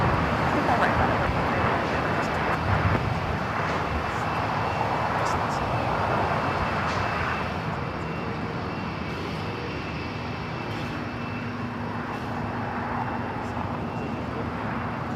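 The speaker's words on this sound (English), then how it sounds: "I think I hear Turkish taking off on the north side." Distant jet roar from a Turkish Airlines airliner with GE90 engines taking off on LAX's north side, a steady broad rumble fading somewhat midway, with voices talking over it.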